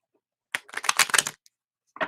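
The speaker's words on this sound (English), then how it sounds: "Going to shuffle the cards a little bit." A deck of cards being shuffled during a tarot-style reading session, giving a burst of rapid riffling clicks for nearly a second, then a brief pause and another short riffle starting, close and clear with no talking.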